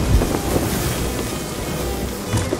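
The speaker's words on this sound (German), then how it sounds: "Alter, hier kommen ja echt gute Wellen rein." Ocean waves roll in around an island in the pirate game Sea of Thieves, a dense wash of surf with wind noise and soft splashes, steady and fairly loud, no talk.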